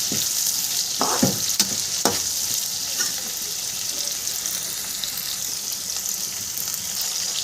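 Chillies are stirred through sizzling oil in a frying pan while cooking a ridge gourd curry, giving a steady close frying hiss with a few scraping stirs of the spoon early on.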